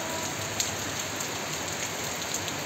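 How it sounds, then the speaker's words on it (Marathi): Heavy rain falling outdoors, a steady broadband roar of drops striking surfaces with a faint patter of closer drops, no speech. "किती जोरचा पाऊस चालू आहे बघा"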